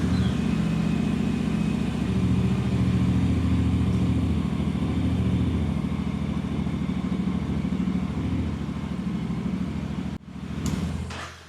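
Honda NC750X motorcycle engine running at a steady, loud, close idle with a continuous low throb for about ten seconds, then abruptly cutting off before a brief rustle.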